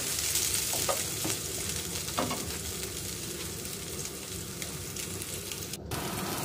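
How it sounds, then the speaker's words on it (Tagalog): Argentina beef loaf fries in a pan with a dense, steady sizzle and crackle, broken by a few sharp stirring clinks and scrapes close by; no talking. "Ipa-fry muna natin yung Argentina beef loaf. Ayan siya, parang ma-fry po siya."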